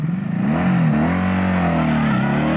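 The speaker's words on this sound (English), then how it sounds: "there really is nothing quite like a Honda V4 from its period, make an amazing sound all of their own" A Honda V4 motorcycle engine revs loudly and close by, its throaty note swelling and easing slightly as the throttle is held.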